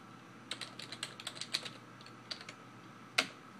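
Someone types on a computer keyboard, giving a quick, irregular run of close, light key clicks, a short pause, a few more taps, and one sharper final keystroke like hitting enter.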